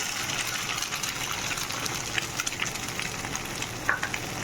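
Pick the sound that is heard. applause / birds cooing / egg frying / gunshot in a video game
egg frying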